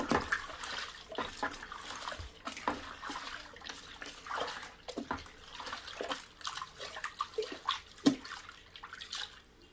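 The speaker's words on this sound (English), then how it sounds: "I just dump it in, stir it around, rinse my cup out." Rehydrating solution for hides is poured and stirred, then a cup is rinsed under water, making soft intermittent splashes, trickles and sloshing at close range.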